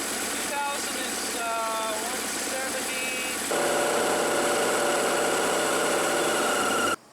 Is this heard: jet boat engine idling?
yes